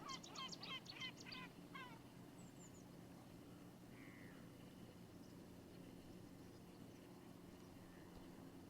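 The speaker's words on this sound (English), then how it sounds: "You can hear gulls and Cetti's warbler." Gulls call at the start, a cluster of harsh repeated cries over an estuary lake, followed by a few faint distant bird notes against a steady outdoor background.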